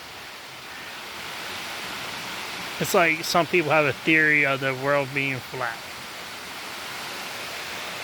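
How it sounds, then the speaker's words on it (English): A small waterfall of flowing water gives a steady, even rush throughout, with a person talking over it in the middle. "like a little waterfall, water coming"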